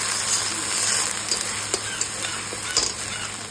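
Tomato and spice masala frying in oil in a pan, a steady close sizzle with scattered pops and crackles, occasional light stirring sounds, no talk.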